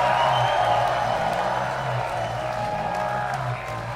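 A festival crowd at Werk Out Music Festival in Thornville, Ohio claps and cheers in a dense, steady wash of applause that holds loud throughout, with a low sustained musical tone droning underneath.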